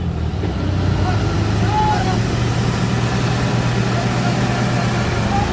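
A tractor engine labours steadily to pull a boring machine stuck in mud, a constant low droning rumble close by, with voices talking over it.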